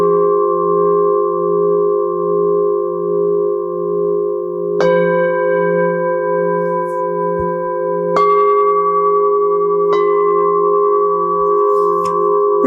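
A melodic set of ten small singing bowls rings in sustained, layered tones, with fresh strikes adding bright chimes at a few points over a steady shimmering hum.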